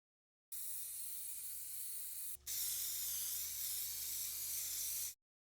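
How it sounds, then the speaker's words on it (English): CushionRite spray adhesive hisses from an aerosol can onto batting-covered foam for a stool cushion in two close, steady bursts separated by a brief pause, with no talking. "adhered it to the foam with CushionRite spray adhesive"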